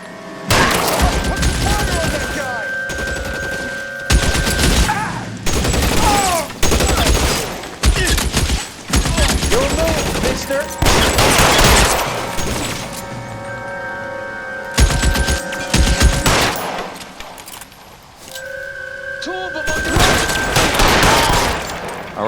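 Heavy gunfire in L.A. Noire: repeated bursts and volleys of shots with booming impacts throughout, loud and close, with shouted voices and music between and over the firing.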